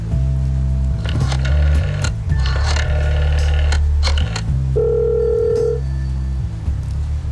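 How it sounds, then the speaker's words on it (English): In The Flower Collectors, a payphone is dialed with a run of short keypad tones, followed by a long electronic ringing tone, loud and close over a low game background hum. "So let's go and call that phone booth again."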